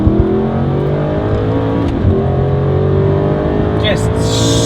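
A 2016 Aston Martin Vantage GT accelerates hard from inside the cabin, its engine rising in pitch through the gears with a loud, screaming rev and a brief shift dip, while a voice speaks over it.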